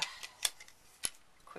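Scissors cutting paper into a 6-inch square for a mini album: a few crisp, quiet snips spaced apart at close range, with light paper rustle between them.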